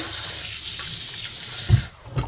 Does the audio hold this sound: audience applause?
no